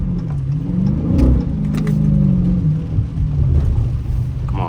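A 2022 Dodge Challenger Widebody Scat Pack V8 revs hard while drifting in snow, a deep loud rumbling engine roar that rises and falls, heard close and steady throughout.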